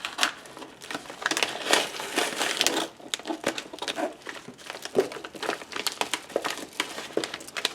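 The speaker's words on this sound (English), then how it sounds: "So let's open the package." Cardboard subscription box package being opened, with continuous close crinkling, crushing and tearing of packaging and paper, steady and fairly loud throughout with brief pauses.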